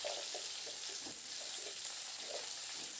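Mixed vegetables for a palong shak dish fry in hot oil over a high to medium flame, giving a steady faint sizzle with soft, irregular scraping from stirring throughout.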